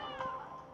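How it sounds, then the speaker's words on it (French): Short meow from an ocelot kitten in a video game, a single clear mewing cry with a tonal, slightly wavering pitch lasting under a second, heard alone without voices. "Chaton ocelot."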